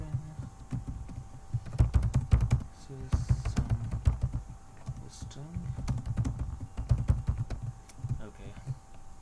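Code is typed on a computer keyboard in quick irregular bursts of close, sharp key clicks, with louder spacebar and enter thumps, over a faint background hum, with a voice talking at times.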